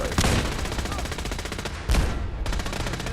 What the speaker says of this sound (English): Gauss rifle.